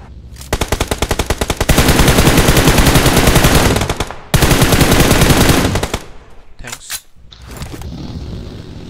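Rapid automatic gunfire in a battle royale video game, loud bursts of machine-gun fire lasting several seconds, then a pause and shorter shots, with brief faint voices.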